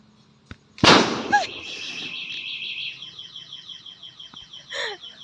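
An improvised boga cannon with a double lighter igniter fires one sharp, loud blast, followed by an e-bike alarm that starts up and keeps wailing in a repeating pattern as the blast's echo fades.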